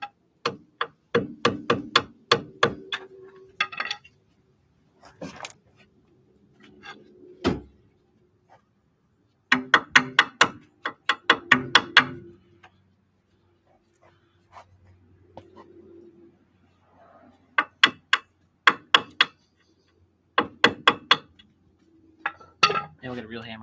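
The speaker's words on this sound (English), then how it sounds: "Actually, maybe just hammer on this pin." Sharp metallic hammer strikes on a car's brake caliper pin during a brake rotor replacement, landing in quick bursts of several blows separated by short pauses, close and loud.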